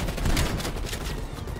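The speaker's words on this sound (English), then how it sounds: "this is a shotgun with a scope on it." A scoped shotgun firing in Call of Duty Black Ops Cold War on a Russian mountain map, heard as a dense, rumbling spread of blasts filling the moment, loud and continuous with no speech.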